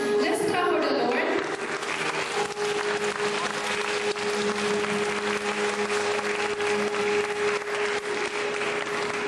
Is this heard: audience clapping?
yes